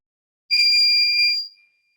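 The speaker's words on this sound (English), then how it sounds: "the buzzer will generate sound continuously" A piezo buzzer on an IoT development board gives one steady, shrill electronic tone lasting about a second, close and alone with no other sound around it.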